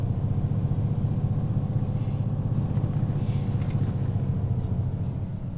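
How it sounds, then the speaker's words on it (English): A Renault Range T truck engine labors uphill at full throttle, a loud, steady low rumble with constant revving drone that holds throughout without pause. "See what I mean about a noisy revvy engine?"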